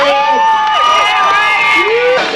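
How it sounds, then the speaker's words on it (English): Spectators at a girls' skateboarding contest on a mini ramp cheer and shout, high whoops and yells rising and falling over a steady crowd roar, loud and close. "Come on, crowd, make some noise for Heidi Fitzgerald."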